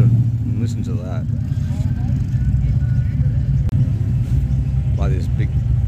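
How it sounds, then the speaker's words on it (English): A 1960s Holden supercar with a 327 engine rumbles at a car rally in Adelaide, a deep, loud low-pitched burble with a speaking voice intermittently over it. "The supercar of the 60s from Holden, and listen to that."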